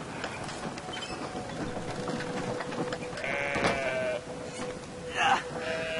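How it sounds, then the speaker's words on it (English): Sheep bleat in the video game Brothers: A Tale of Two Sons, a wavering bleat rising over a dense bed of game ambience and background noise, with a louder cry near the end. "Just pick it up and walk away with the sheep."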